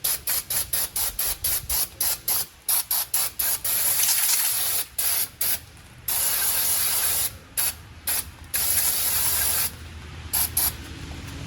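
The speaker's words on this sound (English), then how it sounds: "begin spraying and cleaning all the brake dust and grime off those parts" An aerosol can of brake cleaner hisses in a rapid series of short bursts, then longer sustained sprays with brief pauses, loud and close, cleaning brake dust and grime off rear truck brake parts.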